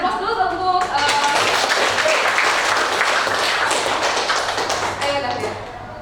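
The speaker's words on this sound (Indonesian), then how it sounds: "Kasih aplaus dulu untuk" A classroom of students applauding: dense, steady clapping that fills the room for several seconds before slowly thinning out at the end.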